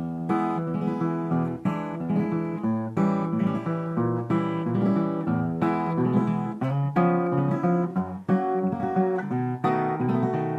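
An acoustic guitar strums a chord progression with quick rolled flourishes between chords, played steadily and close, with no voices.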